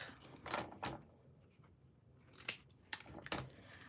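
Scissors snip through scrapbook paper in a handful of short, crisp cuts close up, two early snips, then a pause, then three or four more in quick succession, fairly quiet overall.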